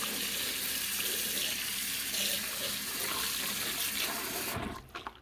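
An ENJO floor fibre cloth is rinsed in a bowl of water, giving steady close splashing and sloshing for several seconds that fades to a few drips at the end, with no talking.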